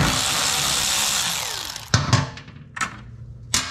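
Power tool working on a 13 mm bolt on a Mk2 car subframe during removal: a steady whirring run for about two seconds, then three short loud bursts spaced apart, close by with no talk.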